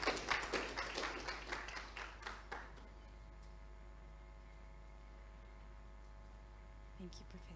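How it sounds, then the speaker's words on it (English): An audience at an African research conference gives a brief round of clapping whose sharp, closely spaced claps thin out and fade over a few seconds, leaving only a quiet hum of room noise. "If we could give a little clap."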